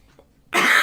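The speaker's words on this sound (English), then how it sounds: "probably you're gonna hear me sneezing and coughing" A single sharp, loud cough bursts out after a near-silent pause, close to the microphone.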